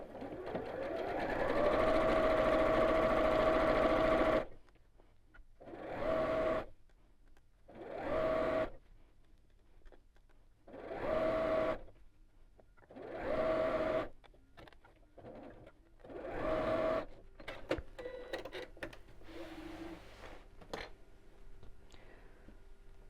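A domestic sewing machine stitches the seams of a twisted infinity scarf in several bursts, first one long steady whir, then shorter runs separated by pauses, followed by quieter clicks and handling noises.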